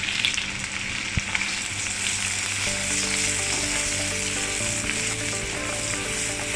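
Onion sizzles and fries steadily in a hot pan, a dense, continuous crackle with one sharp knock early on and a faint tonal hum beneath in the later seconds; no one speaks.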